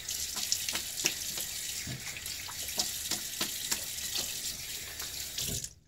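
Tap water runs steadily into a sink for a rinse during a wet shave, a continuous close splashing stream with small irregular spatters, alone without talk, cutting off at the end.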